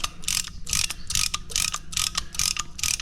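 A brake caliper tool ratchets on the front caliper of a Nissan Armada (Infinity QX56, VK56DE engine), giving a close, loud run of about eight evenly spaced metallic clicks with no talk.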